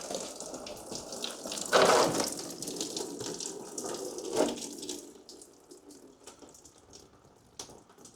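Coolant running out of a 1928 roadster engine, a close, steady splashing flow of liquid that swells briefly, then thins to a softer trickle with scattered drips.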